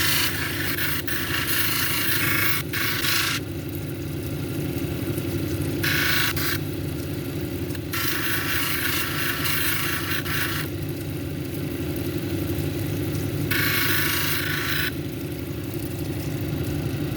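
Stone cabochon ground on a 280 grit lapidary wheel, a steady motor drone with a wet rasping scrape that swells in several bursts of contact and eases off between them, loud and close with no talk.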